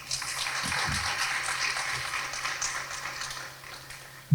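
An indoor audience at a school renaming dedication ceremony claps in a sustained, dense burst of applause that holds steady for several seconds, then tapers off near the end.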